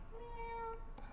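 A single drawn-out cat meow, fairly faint, over a quiet background.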